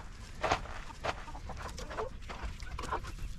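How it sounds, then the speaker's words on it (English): A rooster in a backyard chicken coop gives several short, raspy clucks in uneven bursts, close by and fairly quiet, with no talking over it. "Here's our rooster."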